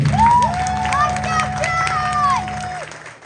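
At a spring band program showcase, an audience cheers and claps for the bassist, with whoops and shouts rising over a steady sustained bass note and music from the stage, fading out toward the end.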